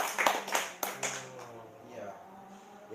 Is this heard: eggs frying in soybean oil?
no